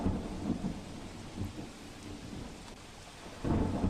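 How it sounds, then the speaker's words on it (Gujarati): Heavy rain pours down in Kutch, Gujarat, with low rumbling thunder rolling underneath, a swell of rumble returning near the end. "પશ્ચિમ કચ્છ વિસ્તારમાં ભારે વરસાદ ભુજ અને નખત્રાણામાં મેઘો મુશળધાર"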